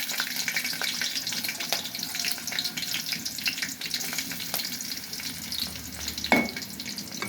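Onions and green chilies fry in hot oil in a pan for cooking small bata fish, giving a steady close sizzle with scattered crackles and a brief louder clatter near the end, and no talking.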